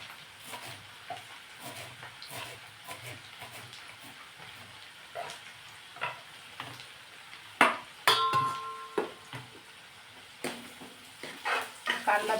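Chopped onion sautéing in a pan for pav bhaji, a low sizzle broken by scraping spatula strokes and sharp metallic clinks that grow louder toward the end.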